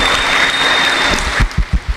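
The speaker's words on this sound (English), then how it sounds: "Give them a round of applause. They did great." Applause from the audience at a 2021 BCYF dog show after a dog costume class, a dense, steady patter of clapping that thins out into a few separate louder claps at the end.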